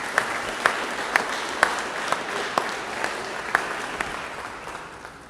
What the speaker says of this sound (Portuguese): glorifique a Deus com as palmas para a glória dele.